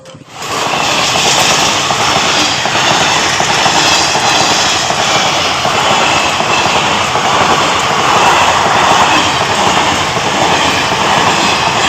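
A train rumbles past a level crossing near Varkala beach, Kerala, steadily and loudly, a continuous roar of wheels and carriages filling the whole stretch without pause.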